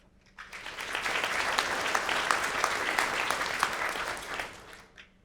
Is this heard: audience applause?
yes